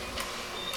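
A food processor gives graham cracker dough a brief whirl, a short motor hum lasting under a second with a faint hiss at the start and end.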